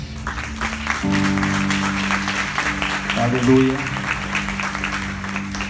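A congregation breaks into sustained clapping that fills the space, with a voice calling out over it and music or organ tones underneath.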